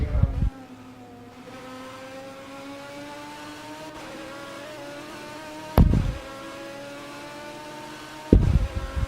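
Onboard with a Corvette race car in a virtual endurance race at Road America, the engine holds a steady whining drone that rises in pitch through the gears, broken by short low thumps.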